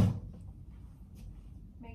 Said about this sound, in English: Put our cup over here in the bedside drawer.